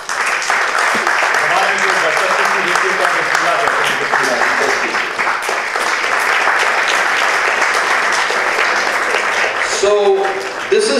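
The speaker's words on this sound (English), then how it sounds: "amidst your thunderous applause" An audience at an evening event applauds loudly during an unveiling, with continuous, thick clapping that holds steady for several seconds. A voice begins speaking near the end.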